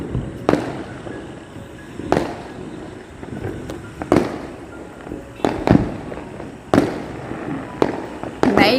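Diwali colour fireworks go off around a house terrace at night: a series of about eight sharp bangs and crackling bursts at irregular intervals, some close and loud, others more distant, over a continuous background rumble, with no talking.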